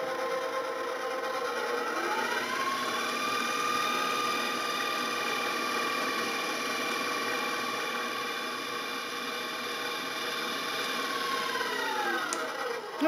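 A stand mixer with a paddle attachment beats coffee cake batter, a steady, faint motor whine with shifting tones that runs continuously for several seconds, with no talking.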